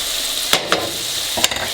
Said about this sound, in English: Mixes real nice now into the pasta, or into the dish